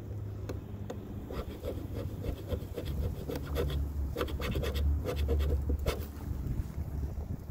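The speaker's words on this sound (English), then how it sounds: "We'll take the flat screwdriver and just make a little scratch." A flat screwdriver rasps across a Cosmoline-coated bare metal surface with no paint, giving a run of close, scratchy strokes and short gritty scrapes that stay steady and near, with no voices.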